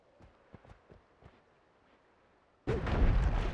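Holy Bombs detonate in Noita, a sudden loud burst of crackling explosion that erupts after a stretch of faint taps and clicks and keeps roaring to the end.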